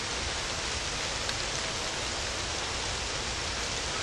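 Light rain falling on tree leaves outdoors, a steady, even hiss of countless drops with no talking and no breaks.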